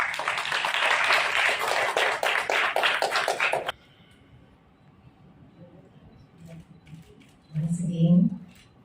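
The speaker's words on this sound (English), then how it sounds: "please give a big round of applause." Audience at a grant signing ceremony for a coffee and agroforestry livelihood project claps for a few seconds, a dense run of hand claps that stops abruptly, followed by quiet room noise and a brief voice.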